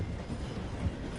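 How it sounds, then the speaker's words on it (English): A train slowing in Red Dead Redemption 2 gives a steady, low rumble of rolling rail cars with faint rhythmic clatter, moderately close and continuous, with no voices. "The train is slowing down to go through the station."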